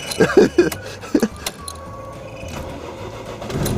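A Ford or BMW car engine cranks and catches during a winter start, with a few sharp bursts early on followed by a steady idle hum and a sustained tone.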